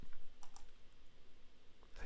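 A few quiet keystrokes tap on a computer keyboard as a short number is entered, sparse and close, with a brief click near the end.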